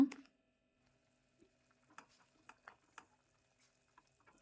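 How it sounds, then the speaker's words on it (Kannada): Egg gojju masala gravy boiling in a pan, faint soft bubbling pops and light ticks scattered over near silence after a brief initial thud. "ನೋಡಿ ಚೆನ್ನಾಗಿ ಕುದೀತಾ ಇದೆ"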